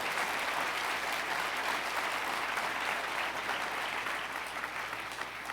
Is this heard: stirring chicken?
no